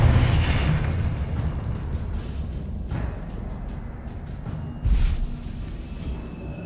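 A Confringo spell detonates in Hogwarts Legacy, a loud, sustained rumbling roar with a sharper burst hitting near the end, heard alone and close.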